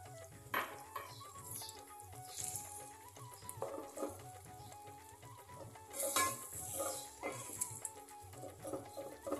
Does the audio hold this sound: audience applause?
no